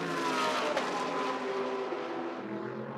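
GT race cars braking into turn 1 at Indianapolis during a GT World Challenge America race: engines drone with harmonics that drop in pitch as they slow, heard at moderate distance as a continuous, gradually fading roar.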